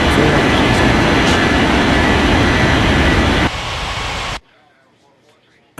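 Airliners take off and land in an air traffic control video game, with a loud, steady jet roar that drops in level and then cuts off abruptly into near silence.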